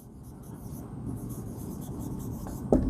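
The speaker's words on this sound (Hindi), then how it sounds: "अब मैं कुछ सेंटेंस ऐसे लिखता हूँ, डायरेक्ट पैसिव में लिखता हूँ।" Chalk or marker writing sentences on a classroom board, a continuous soft scratchy rubbing that ends in a sharp tap.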